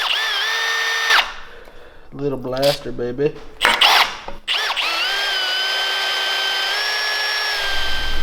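Power drill boring holes in metal parts for a 1970 Bird mini bike, a loud close whine that runs steady in bursts, with someone speaking briefly during a pause.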